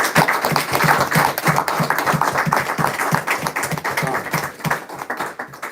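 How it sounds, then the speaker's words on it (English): Sustained audience applause at a Purim gathering, dense and steady claps with no talk over them, holding strong for several seconds before thinning slightly at the end. "let's give a round of applause to Yahweh Hashem Yahushai"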